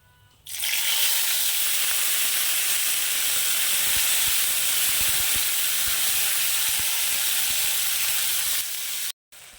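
Ground ginger, tomato and green chili spice paste dropped into hot oil, bursting into a loud, steady sizzle and hiss that holds for several seconds before cutting off abruptly near the end.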